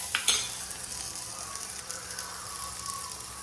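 Onions fry on a low flame in a brass pan, giving a soft, steady sizzle throughout, with a sharp metallic clink of a utensil near the start.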